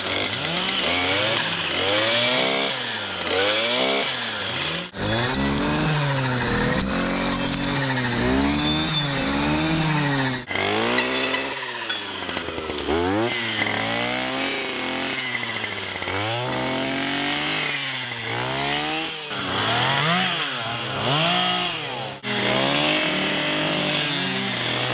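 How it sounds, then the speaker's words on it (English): A chainsaw cuts into a big cherry tree on a homestead, its engine loud and close, the pitch rising and falling through repeated revving bursts with brief dips for about 25 seconds. "We're probably gonna need my chainsaw for that cherry."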